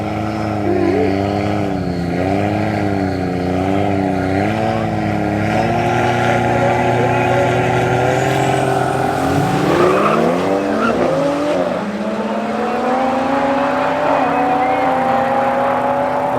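Two 140 BMW cars race side by side at Midvaal Raceway in a drag event, their engines droning loudly with wavering, overlapping pitches that climb through gear changes, close and continuous.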